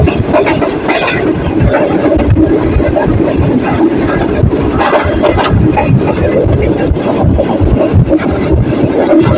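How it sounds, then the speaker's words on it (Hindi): Loud, steady rumble of a Green Line train braking on a steep downhill track between Rawalpindi and Lahore, with continuous rattling and grinding from the wheels and carriages. "गाड़ी इस वक्त ब्रेकें लगा रही है क्योंकि गाड़ी फुल उतराई में है।"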